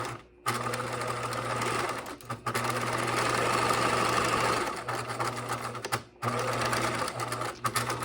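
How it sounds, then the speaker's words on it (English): A sewing machine hums in long, steady runs while top stitching a caddy bag pocket, with a couple of short pauses between passes, close and clear. "you just want to stitch a straight line all the way down"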